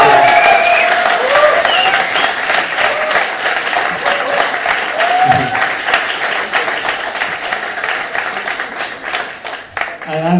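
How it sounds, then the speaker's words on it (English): Sustained audience applause fills a talk hall, dense steady clapping from many hands lasting throughout with a few brief voices mixed in. "Is it just this kind of amount of applause for Jānis?"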